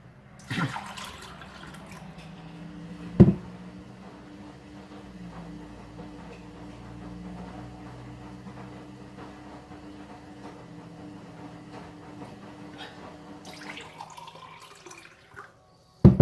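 Tap water runs steadily into a glass in the morning, a continuous close hiss with a sharp clink near the start and again at the end, no talking.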